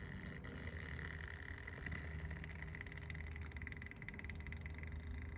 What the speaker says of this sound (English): you hear that creak. That is a little motor behind there closing the vent or opening the vent